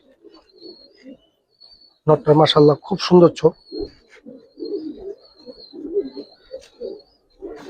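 Young pigeons, giribaz and colored breeds, give soft low cooing murmurs close by, mixed with someone speaking briefly among them.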